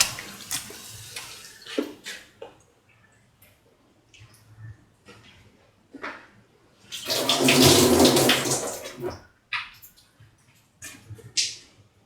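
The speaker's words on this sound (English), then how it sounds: "Now put in the soaked and washed rice into the water." A burst of splashing, rushing water in the middle as soaked, washed rice is poured into boiling water, with quieter clinks and short handling sounds before and after.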